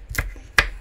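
A knife chops Cheongyang chili peppers on a cutting board in two sharp, close cuts about four-tenths of a second apart, with no talking.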